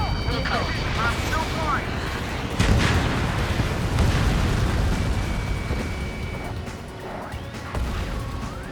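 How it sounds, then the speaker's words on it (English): Ace Combat 7 video game explosions and crashing impacts rumble loudly in a dense, continuous battle mix, with radio-style voices talking over the blasts. "How many got caught in that explosion?"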